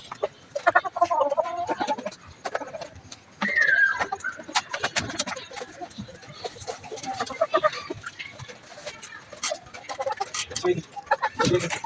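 Young Aseel chickens kept together in a cage cluck and call continually at close range, with someone talking over them throughout.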